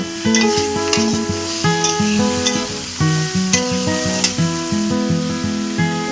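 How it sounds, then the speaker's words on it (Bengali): Turmeric, chili powder, chopped ginger and salt sauté in a pan for a golden fish curry, with a steady sizzle and stirring scrapes under loud melodic background music. "হলুদ গুঁড়ো, আবার আমি ভালো করে কষিয়ে নেব। লঙ্কার গুঁড়ো দিয়ে দিলাম আর আদা কুচি দিয়ে দিলাম।"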